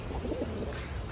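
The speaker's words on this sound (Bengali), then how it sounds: "এই নটটা অনেক পুরান একটা নর কবুতর, একদম টকটকা লাল গিয়ারের কবুতরটা" An old male pigeon with deep red eyes coos in a home pigeon loft, a short, close burst of low, throaty cooing with faint chirps and no voices.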